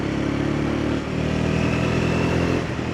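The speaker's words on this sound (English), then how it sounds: "It's even got quite a funky little exhaust note, especially down low." A Triumph Scrambler 400X motorcycle engine burbles at a low, steady throttle with a throaty exhaust note and a slight dip midway, close and fairly loud.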